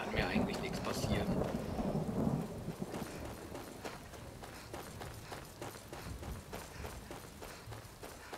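Steady rain and rolling thunder in the video game Skyrim, a loud rumble swelling in the first couple of seconds before settling into continuous rainfall with faint crackles.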